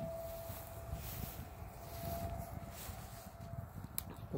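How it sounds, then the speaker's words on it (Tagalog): A light breeze blows outdoors near an alfalfa patch, a steady low rushing buffet against the microphone with a faint tonal hum running underneath. "May kunting hangin"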